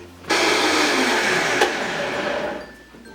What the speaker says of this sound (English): now I'm just gonna blend this until it's really smooth, kind of like a cream